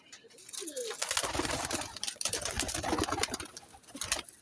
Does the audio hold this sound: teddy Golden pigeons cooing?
yes